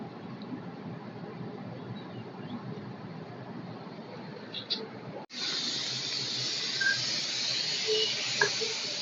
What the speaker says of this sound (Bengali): ভাতের বলক চলে আসছে তো